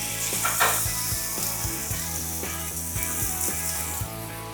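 Marinated chicken frying in a little oil in a hot pan, a steady bright sizzle running throughout with low rhythmic thumps and clicks of steady background music beneath it.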